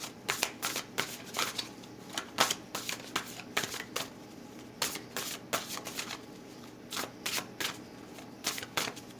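Oracle cards being shuffled by hand, a quick series of crisp riffling bursts in an irregular rhythm, close and fairly quiet.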